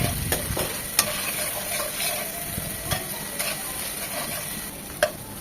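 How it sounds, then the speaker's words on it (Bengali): Spice paste for a fish curry with cauliflower and potato being sautéed in a pan, a steady sizzle punctuated by occasional sharp clicks of a spoon stirring, close and with no talking. "সময় নিয়ে মশলাটা একটু ভালোভাবে কষিয়ে নিতে হবে"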